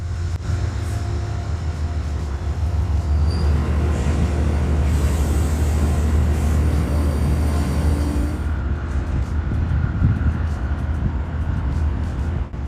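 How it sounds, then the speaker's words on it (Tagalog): Amtrak Lake Shore Limited train backing slowly into Albany station with its locomotives now at the rear, giving a steady low rumble and broadband mechanical noise close by, with no voices. "paatras na bumabalik ang tren sa istasyon at ang mga lokomotibo ay nasa likuran na ng tren"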